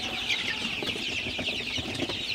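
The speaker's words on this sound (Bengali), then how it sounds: "আপনারা দেখতে পাচ্ছেন আমার সোনালী সুপার হাইব্রিড মুরগির বাচ্চাগুলো মাশাআল্লাহ কতটা সুস্থ আছে" Many small Sonali hybrid chicks peep constantly in high, overlapping chirps, a busy close-up chorus with no voices.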